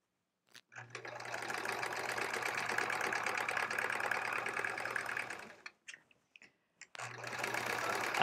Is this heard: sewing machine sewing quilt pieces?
yes